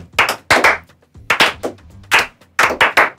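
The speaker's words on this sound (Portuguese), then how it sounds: "Salva de palmas lentas para o Bira." Slow, deliberate hand clapping from a small group on a casual Brazilian football talk show, about a dozen sharp claps in a steady, spaced rhythm with short gaps, close and fairly loud, with no talking.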